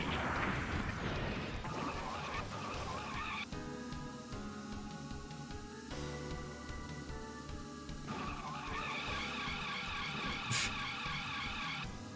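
Tires skid and squeal in the video game Speed Power Gunbike as a vehicle corners in a warehouse, with layered tonal screeches and engine sound running throughout and a brief sharp hit near the end.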